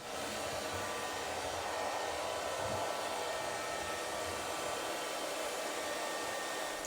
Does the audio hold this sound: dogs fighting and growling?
no